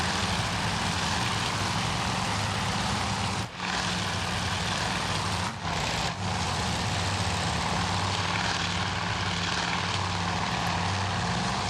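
Propeller aircraft engine in a Coral Sea naval air combat game, a loud continuous droning hum that holds steady, with two brief dips before the roar resumes.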